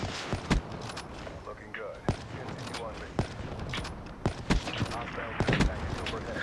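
Gunfire in Black Ops 3: sharp, irregular single shots crack out repeatedly, mixed with game sounds and someone talking over them.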